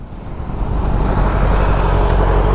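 A Kawasaki Z900 motorcycle arrives on a road, its engine a steady, loud, broadband roar that swells over the first half second and then holds constant and close.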